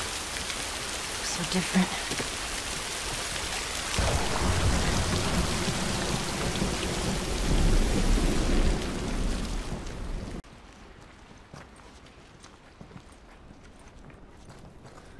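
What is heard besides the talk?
rain and thunder in the video game The Last of Us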